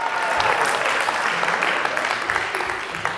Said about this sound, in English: So round of applause for University of Wisconsin for putting on this show,